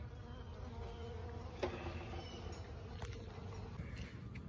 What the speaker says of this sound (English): we got a little cluster of bees here.